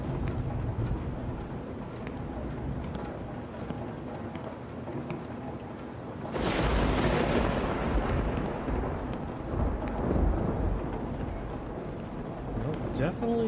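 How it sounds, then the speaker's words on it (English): Thunder from lightning in the retro psychological horror game No One Lives Under The Lighthouse: a sudden loud crack midway that rolls into a long, low rumble over a dark ambient background. "the lightning sometimes sounds like a lion"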